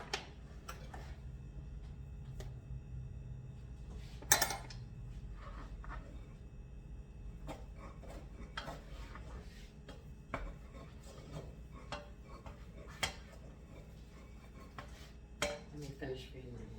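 A utensil clinks and taps against a pan while butter is stirred, with sparse scattered knocks and one sharper clatter over a quiet background.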